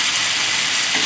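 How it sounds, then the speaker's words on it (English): Tofu stir-fries in a hot pan for Pad Thai, a loud, close, steady hiss and crackle of sizzling oil with no voices. "Then we're gonna stir fry the tofu."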